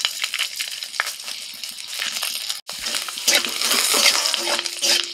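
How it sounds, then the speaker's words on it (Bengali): Bay leaves, a couple of dried red chillies and five-spice hit hot tempering oil for urad dal, giving a steady crackling sizzle with a brief break midway, then busier spattering and a faint metal scrape near the end. "ফোড়নে দিচ্ছি তেজপাতা, দুটো শুকনো লঙ্কা, 5 ফোড়ন"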